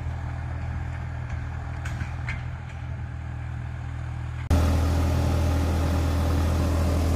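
A Massey Ferguson 4707 diesel tractor with a remapped engine module runs with a steady droning engine, jumping abruptly louder and deeper partway through and holding that heavier rumble to the end.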